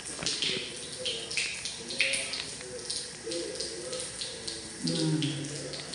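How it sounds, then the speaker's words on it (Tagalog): Water running steadily into a hotel room jacuzzi at a Pansol, Laguna hot spring resort, a continuous close splashing rush under brief voices talking. "Naglalagay pa lang ng tubig."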